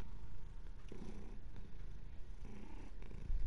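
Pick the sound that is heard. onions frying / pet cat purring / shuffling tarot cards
pet cat purring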